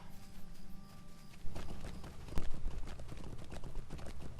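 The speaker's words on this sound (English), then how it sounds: "one swift traveling horse taxi later, we're pulling up at the stables here in Thorin's Hall" Hooves of a swift-travel horse taxi in Lord of the Rings Online arriving at the stables in Thorin's Hall, a rapid, steady clip-clop that starts after a quiet moment and continues close and clear.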